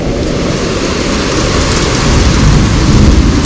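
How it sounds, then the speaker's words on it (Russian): Heavy rain shower growing stronger at a subtropical beach in Lazarevskoye, Sochi, a dense steady roar of downpour that swells louder toward the end, with no talking. "Как видите, дождик только усиливается."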